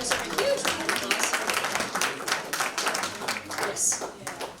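Audience clapping for arts center staff at a live jazz centennial tribute, a steady patter of many hands over several seconds with a voice speaking over it.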